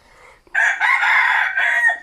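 A rooster crows once, loud and close, in a long drawn-out call that starts after a brief faint sound and holds steady to the end.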